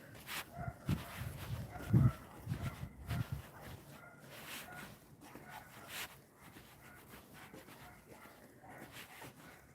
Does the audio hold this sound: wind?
no